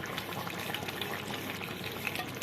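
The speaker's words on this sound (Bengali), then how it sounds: "এবার এর মধ্যে দিয়ে দিচ্ছি এই কষা মাংসের মধ্যে" Crushed fried onions are stirred into chicken kosha frying in a pan, a dense, even sizzle with crackling pops throughout and no voices.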